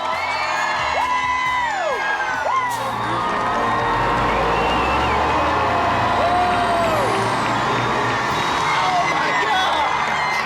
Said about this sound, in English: When we seen that bus move